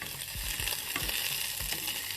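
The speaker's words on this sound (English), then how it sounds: "I'm going to heat the olive oil up, add the garlic, the chilies, and the oregano." Garlic, bird's eye chilies and oregano fry in hot olive oil in a pan, giving a dense, steady sizzle with faint spatula scrapes and stirring knocks throughout.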